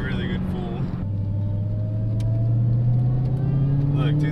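A Dodge Challenger SRT Hellcat engine drones steadily with a rising high-pitched supercharger whine layered on top, heard from inside the vehicle, with brief voices at the start.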